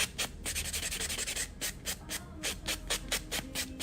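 Acrylic fruit nails being filed by hand in a nail salon setting, a steady run of quick, rasping back-and-forth strokes, close and fairly soft, with no talking.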